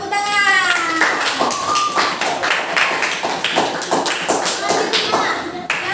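Hands clapping in a classroom, a run of close, distinct claps in a fairly steady rhythm, with a voice speaking over them.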